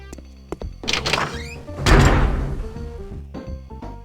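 A door in Counter-Strike: Condition Zero opens with a squeaky creaking sound and ends with a chunky thunk as it stops, several clacks and squeals building to a loud thud, then softer knocks.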